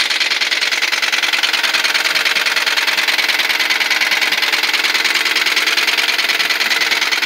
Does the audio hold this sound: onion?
no